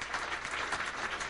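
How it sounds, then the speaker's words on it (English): Audience applauding at an election night gathering, a dense steady wash of many hands clapping close by, with no break across the short stretch. "You can applaud yourselves."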